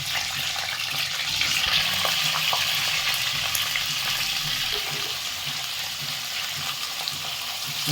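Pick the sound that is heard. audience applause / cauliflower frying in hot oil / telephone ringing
cauliflower frying in hot oil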